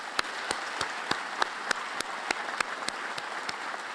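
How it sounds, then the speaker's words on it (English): Steady, evenly spaced claps from a small part of an audience at a university distinguished alumni awards ceremony, each crisp clap standing out over a low room hiss, in place of a full burst of applause. "please join me in applauding him for his achievements"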